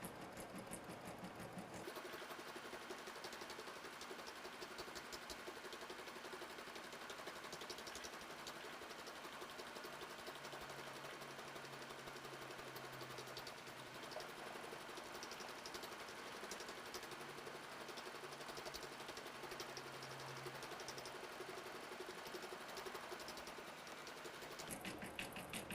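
An embroidery machine sews a tight tack-down satin stitch for a quilted pincushion, its needle running in a steady, rapid, fairly quiet mechanical whir that continues almost without a break.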